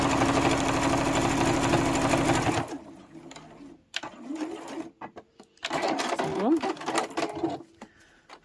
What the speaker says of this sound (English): you're just going to sew straight across the bottom, 1/4 of an inch seam allowance, a couple of back stitches